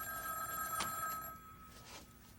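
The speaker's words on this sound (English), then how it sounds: "My phone." A telephone rings with a bright electronic trill, one sustained burst that cuts off and is followed by a fainter echo in a quiet indoor setting.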